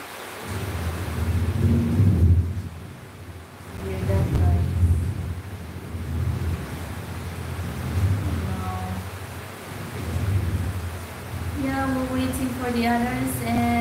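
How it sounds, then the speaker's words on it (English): Heavy rain roars steadily while deep thunder rumbles swell and fade several times, close and loud, with a voice briefly heard toward the end. "Oh my God, this rain."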